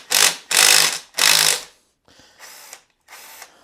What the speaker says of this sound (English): we can take the cam cap bolts off